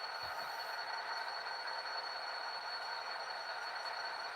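A model train pulling a ballast hopper runs on a layout with a faint, steady rolling hum and a thin high whine. It continues quietly with no talking.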